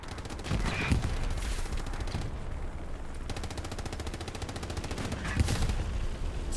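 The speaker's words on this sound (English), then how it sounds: "Tank fights happening." A tank fight in the video game Hell Let Loose, during a tournament final, brings rapid sustained machine-gun fire and dense bursts of gunshots that continue throughout at moderate loudness.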